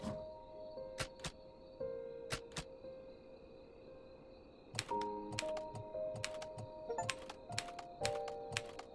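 Typewriter keys clacking in the video game Undusted: Letters from the Past, a run of sharp, separate strikes at an uneven pace over a steady ambient game tone, some taps landing in quick pairs.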